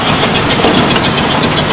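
A 1922 Stanley Steamer steam car engine running, a loud, steady broadband hiss and rush of steam with a continuous low rumble throughout, no voices.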